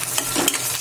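Curry leaves and tomato sautéing in a hot pan for a Marathi guar (cluster bean) curry, giving a steady close sizzle with a few soft stirring scrapes, no voices.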